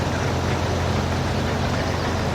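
A combine harvester engine in Farming Simulator 22 runs with a steady, dense, loud drone and low rumble, unbroken across the short stretch with no speech.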